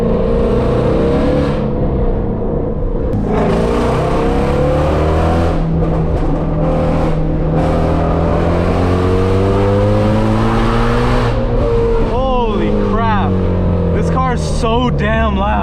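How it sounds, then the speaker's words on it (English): Several Shelby cars roar loudly and continuously along a coastal highway, engines droning and rising in pitch as they accelerate, with voices briefly audible near the end. "All this noise, all these Shelbys"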